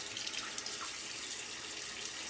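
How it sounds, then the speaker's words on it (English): A tap runs steadily into a sink for a cold water rinse after shaving, a faint, even hiss of flowing water with no speech. "We'll do the cold water rinse"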